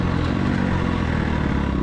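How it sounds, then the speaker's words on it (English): A 4-stroke dirt bike engine climbing a rocky hill gives a steady, loud, close drone at constant pitch with faint clatter underneath. "But I am going up a hill on a 4-stroke, so there is the fear of stalling"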